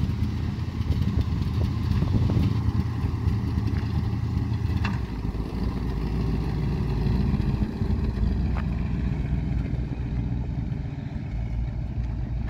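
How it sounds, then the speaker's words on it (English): A 1972 Oldsmobile Cutlass drives with its engine running, a steady low rumbling drone with some rattling clatter and occasional clicks, close and continuous throughout with no talking. "Test drive the Cutlass a little bit."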